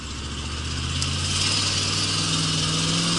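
Pontiac Trans Am with a carburetor, heard from inside as its engine hums and builds, the droning tone rising steadily while accelerating at speed.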